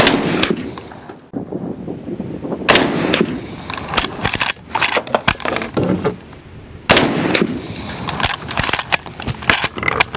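A Winchester Model 1894 rifle chambered in 38-55 fires several sharp, loud shots, spaced a few seconds apart. Each crack is followed by some outdoor echo and faint handling noise.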